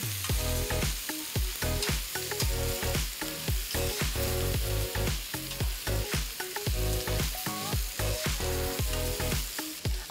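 Garlic and steak sizzling in garlic butter in a pan, a loud continuous frying crackle punctuated by regular scraping stirs throughout.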